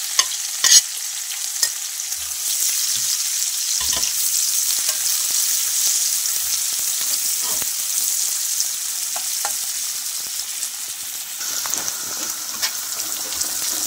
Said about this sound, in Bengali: পেঁয়াজ রসুন তেলের মধ্যে ভাজা হয়ে গেছে